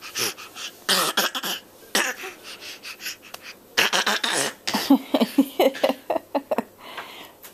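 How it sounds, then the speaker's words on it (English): A child makes repeated forced, exaggerated coughs in irregular bursts, some breathy and throaty, close and loud, with short pauses between. "Is that fake coughing?"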